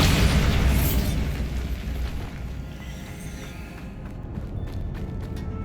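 A Bombarda blasting spell explodes in Hogwarts Legacy with a loud, close boom that hits at once and then rumbles away over several seconds.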